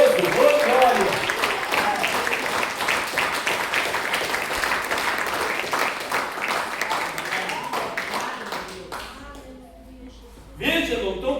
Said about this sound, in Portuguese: Quem que pode aplaudir esse Deus maravilhoso?